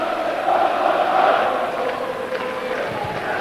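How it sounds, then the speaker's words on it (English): Kilmarnock football supporters making noise inside an away stadium at Pittodrie, a broad distant crowd roar with chanting swelling and fading, steady throughout. "The noise you can hear at the moment is coming from the Kilmarnock fans."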